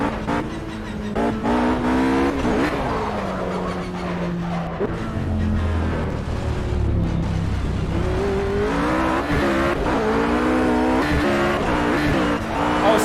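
A car engine revs loudly in Project Cars with automatic transmission, rising and falling pitch sweeps as it accelerates, drops, and climbs again with tire noise, continuous and close throughout.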